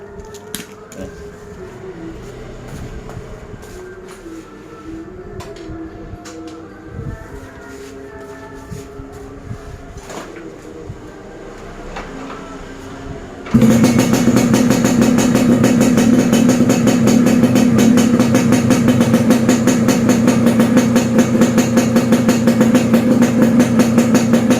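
Yamaha RX King motorcycle with an anti-theft remote fitted, its two-stroke engine catching suddenly partway through after quieter background rumble, then idling loudly and steadily to the end.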